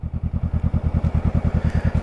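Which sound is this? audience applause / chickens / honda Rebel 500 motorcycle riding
honda Rebel 500 motorcycle riding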